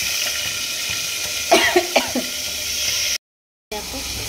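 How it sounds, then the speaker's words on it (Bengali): Fish frying in hot oil in a home kitchen, a steady sizzle broken by a few sharp pops and spatters midway, then a brief dropout before the frying resumes. "আর এই কটা বাকি আছে, এত ফাটছে, আওয়াজ হচ্ছে"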